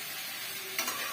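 Mushroom pieces sizzle in hot oil with a steady hiss, broken near the end by a quick stir of a spoon through the pan.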